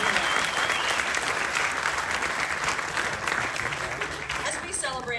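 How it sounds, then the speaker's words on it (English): Sustained applause from a crowd at a TriMet grand opening ceremony for the Better Red line, honouring Bhangra and Bollywood DJs Anjali and the Incredible Kid, steady and dense throughout with a faint voice near the end. "Let's give them another round of applause."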